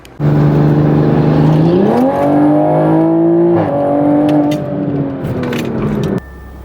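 A tuned 2012 Subaru STi cruises under load, its engine droning loudly from inside the cabin, pitch climbing through a rev rise, holding steady, then easing off before cutting to a quieter hum.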